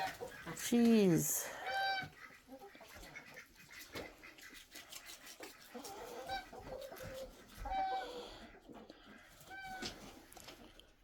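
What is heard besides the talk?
chickens clucking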